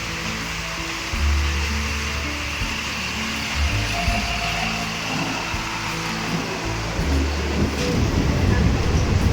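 Machilipatnam–Bidar Express train rumbling past near Machilipatnam, a steady low roar with heavy periodic thuds and clanks from the rails, heard from another train nearby.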